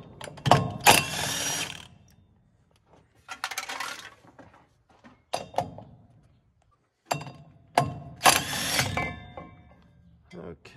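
Ratchet wrench backing bolts out on a Gleaner R72 combine during clutch bearing work, heard as several bursts of rapid metallic clicking separated by pauses, close and fairly loud.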